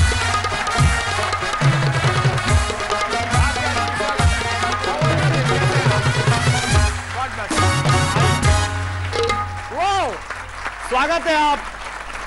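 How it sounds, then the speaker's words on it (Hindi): An audience at a Kavi Sammelan poetry gathering applauds to welcome poets, the clapping running under loud rhythmic drum-led music while a voice speaks briefly near the end. "इन तीनों का जोरदार तालियों के साथ स्वागत कीजिए।"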